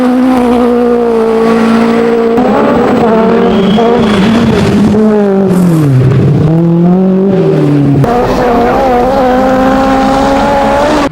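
Peugeot 205 T16 Group B rally car engine revving hard, loud and close, the pitch climbing and dipping through gear changes, with tire squeal mixed in.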